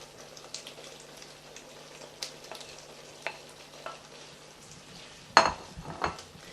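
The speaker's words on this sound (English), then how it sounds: "this is when I put the prawns in" King prawns go into a pan of thickened sweet and sour sauce, with a soft low sizzle broken by sporadic utensil clinks and scrapes and one sharper clatter near the end, close and fairly quiet.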